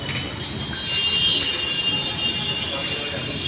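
A metro train rolling past near a temple garden in Ahmedabad, a continuous rumble with a high metallic wheel squeal that swells in the middle and then eases off.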